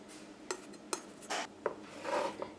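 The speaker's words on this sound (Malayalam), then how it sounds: "ഏറ്റവും ആദ്യം ഇതേപോലത്തെ ഒരു ചെറിയൊരു പ്ലേറ്റ് വെക്കാം." A small metal plate is set down inside a pressure cooker, ready for baking a plum cake, giving several sharp clinks and scrapes of metal on metal in a quiet kitchen.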